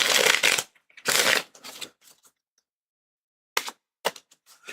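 A deck of cards is shuffled at a desk during a solo tabletop RPG session, with two loud riffling bursts up close, then softer ruffles, a pause, and a few light taps and snaps.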